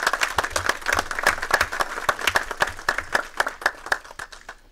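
A modest audience at a legal conference on tax arbitration claps for a visiting civil-law professor, separate sharp hand claps standing out clearly, close and uneven, thinning slightly toward the end.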